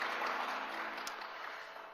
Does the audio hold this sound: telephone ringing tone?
no